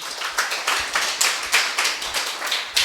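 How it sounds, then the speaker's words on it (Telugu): A worship congregation claps their hands loudly in a steady rhythm, sharp repeated claps filling the room with no talk over them. "చప్పట్లు కొడదాం గట్టిగా"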